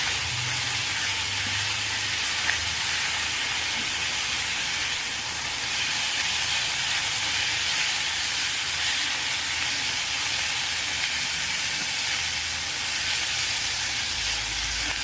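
Chopped tomatoes sauté in a frying pan for a bitter gourd fry, producing a steady, unbroken hiss and sizzle that stays even and fairly loud throughout, with no voices.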